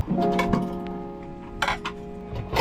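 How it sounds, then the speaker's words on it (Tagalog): Dishes clink and clatter against each other in a sink, with a few sharp knocks over a steady background hum. "Maghugas na ako ng pinggan."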